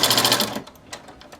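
Sewing machine stitching tucks with contrasting thread, a fast steady whirring rattle for about half a second, close and loud, followed by a few soft clicks and handling sounds.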